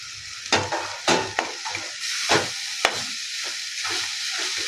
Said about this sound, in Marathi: त्यानंतर आता सोयाबीन टाकून घेऊया आपण बारीक केलेली